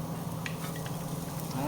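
Onions tipped into a hot pan over high heat for a courgette tart, giving a steady close sizzle of frying with light utensil clinks and stirring throughout.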